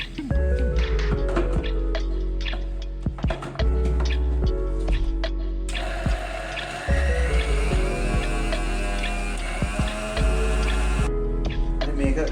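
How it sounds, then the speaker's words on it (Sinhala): Clanks and handling noises lead into a blender whirring loudly for several seconds as it blends garlic for Sri Lankan garlic gravy, then it stops and a low hum with more knocks follows. "හොඳ බෝතලයක දාලා අපි මේක බ්ලෙන්ඩ් කරගෙන බලමු"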